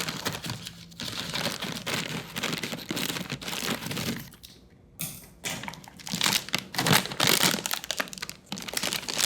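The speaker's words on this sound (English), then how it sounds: "we are going to start with our full bag of cake mix. So I'll go ahead and give that a cut." A bag of cake mix is cut open up close, with crinkling plastic, snipping and rustling handling noises coming in irregular bursts through the clip.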